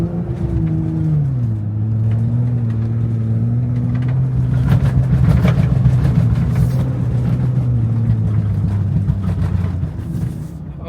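A Jeep Gladiator with a solid front axle drives through deep, hard-packed snow, its engine a steady low rumble that shifts pitch early on and then holds continuous and close throughout.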